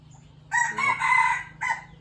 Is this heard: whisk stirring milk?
no